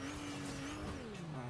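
A car engine drones steadily in Fortnite, a sustained motor tone that shifts slightly in pitch over a rough road rumble, moderately loud with no one talking.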